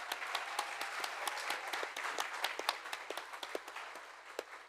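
An audience at the 2025 Plain Language Awards ceremony applauds steadily, with many sharp individual claps standing out over a continuous patter of hands, moderately loud and sustained throughout.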